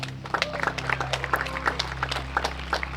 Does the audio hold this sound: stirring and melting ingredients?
no